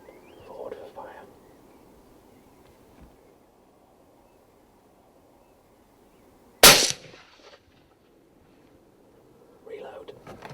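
A rifle shot fired at a roebuck deer cracks out once, loud and sharp, with a brief echoing tail, between stretches of quiet field ambience and faint whispered talk.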